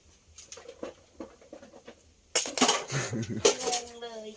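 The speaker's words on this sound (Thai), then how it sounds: "ล้างจาน เมื่อกี้ว่าจะล้างอยู่ มาล้างแทนแล้ว" Dishes being washed by hand, with plates, pots and cutlery clinking and rattling close by, soft taps first and then louder clattering and splashing.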